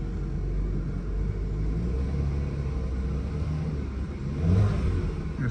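A pickup truck with a 2 or 3.6 litre engine runs at a deep, rumbling idle close by, then swells briefly near the end in a sluggish rev.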